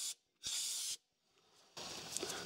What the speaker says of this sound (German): Ich gehe jetzt von der Seite mit Druckluft ran und blase nochmal aus.